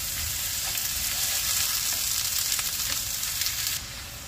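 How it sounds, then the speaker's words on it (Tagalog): Fresh garlic and onions sauté in a hot pan for a ground beef lasagna sauce, a loud, steady close sizzle with light stirring scrapes that drops a little in level near the end, with no talking. "magisa tayo ng ating beef, ground beef. Unahin natin yung fresh garlic,"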